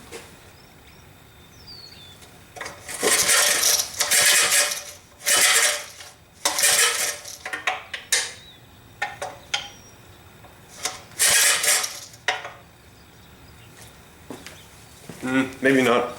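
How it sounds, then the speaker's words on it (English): Briggs & Stratton go-kart engine cranked over and over with a bent flywheel shroud rubbing against the flywheel: a series of loud, scraping, metallic bursts separated by short pauses, with no clean start. "part of this flywheel shroud was bent on the side here and was rubbing up against the flywheel, so that was what that weird noise was"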